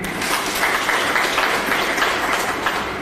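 Members of a church congregation applaud together, a loud, steady roar of many hands clapping continuously throughout, with no break or voices standing out.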